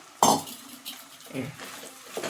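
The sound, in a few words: stirring meal maker chunks in a cooking pan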